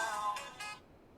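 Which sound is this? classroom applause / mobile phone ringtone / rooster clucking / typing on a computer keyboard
mobile phone ringtone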